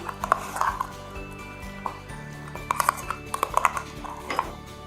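Semiya kunafa mixture with mango being stirred in a pan, giving scattered metallic clinks and scrapes of a utensil against the pan, close and light, in irregular bursts with quiet gaps.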